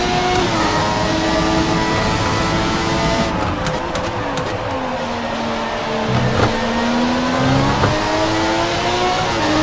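A Formula 1 car engine screams loudly in F1 2017 at the Russia track, its pitch sweeping up and down through gear shifts and revs, close and continuous with no talking.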